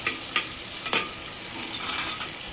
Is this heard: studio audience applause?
no